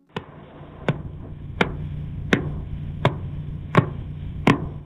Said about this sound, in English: What you're hearing is a sound transcription of a light signal